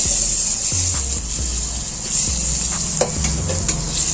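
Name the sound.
unsalted butter sizzling in hot pan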